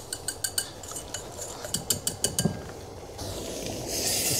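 Milk tart mixture of salt, caster sugar and cake flour stirred in a pot, a quick run of clinking utensil strikes against the pot, then a softer steady scraping and rustle.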